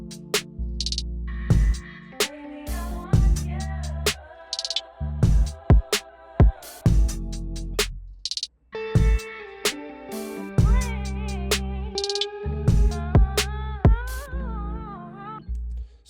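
An R&B-style beat with the delay on the keys switched off, so dry keys sit over deep bass and punchy, sharp percussion hits in a loose groove, fairly quiet and without talk.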